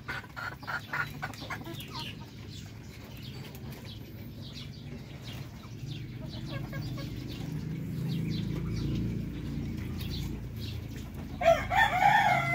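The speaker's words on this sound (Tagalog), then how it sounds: "Malalaki po yung mga hen namin na yan oh." Large hens cluck and a rooster crows nearby on a farm, with rustling and low background noise throughout and a louder burst of bird calls near the end.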